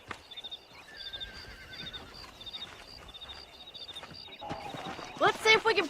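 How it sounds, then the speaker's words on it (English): A horse whinnies near the end, a rising, shaky neigh from wild horses in Red Dead Redemption, over a busy game soundscape with chirping birds, ambient noise, and some speech earlier. "there's a pack of wild horses nearby"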